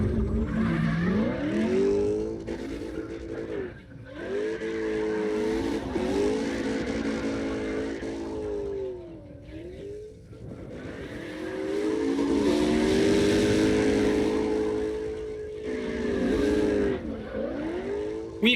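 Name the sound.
Mustang engine drifting in CarX Drift Racing video game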